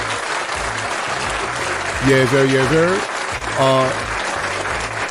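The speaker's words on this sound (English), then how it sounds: "Let's give that man a round of applause." Applause for a podcast guest fills the room as a steady, loud clatter of clapping, with someone speaking over it and briefly calling out.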